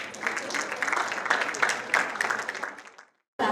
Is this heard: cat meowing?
no